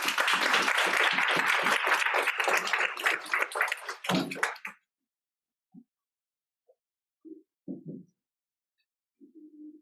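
A panel-discussion audience applauds to welcome three speakers, a dense burst of clapping for about four seconds that tapers into a few scattered claps, followed by near silence with a few soft knocks.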